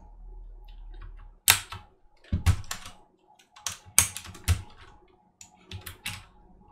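Keys clack on a mechanical keyboard refurbished with new keycaps, in short bursts of sharp, close presses separated by brief pauses.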